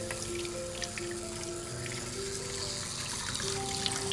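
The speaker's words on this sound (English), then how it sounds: "Rinsing for a good 3 to 5 minutes, ensuring that we've removed all the conditioner." Running water rinses conditioner off a puppy during a bath, a soft steady splash and trickle heard fairly close and alone throughout.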